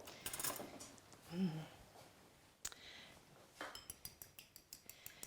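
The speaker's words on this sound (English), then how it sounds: "I'll just give them a bit of a whisk." A fork clinks and taps against a bowl in a kitchen, starting with scattered scrapes and settling into a steady run of quick, close metallic ticks, with no talking.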